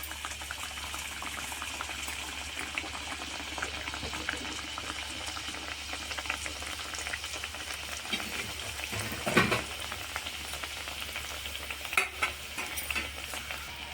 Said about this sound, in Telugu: ఈ ఒక్కొక్క పీసుని తీసుకొని ఆయిల్ అయితే వేడెక్కింది, ఇందులో వేసేయాలి.